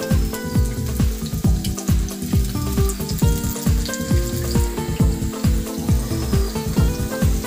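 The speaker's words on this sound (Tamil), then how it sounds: "இப்போது காலிஃப்ளவர் ஒன்று ஒன்றா போட்டு பொறிச்சு எடுத்துக்கலாம்." Cauliflower pakoda pieces fry in a pan of medium-hot oil, giving a steady, close, dense sizzle with continuous crackling and popping throughout and no talk.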